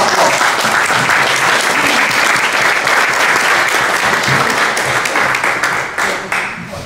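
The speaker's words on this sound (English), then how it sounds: "Give him a round of applause" Loud, sustained applause from the crowd at a patient appreciation dinner welcomes a speaker to the stage, thick clapping that gradually thins toward the end.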